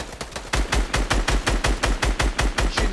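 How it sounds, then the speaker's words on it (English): Rapid automatic gunfire in the Fortnite video game, shots aimed at a tree, a loud steady string of about a dozen evenly spaced bangs. "Shooting the tree down?"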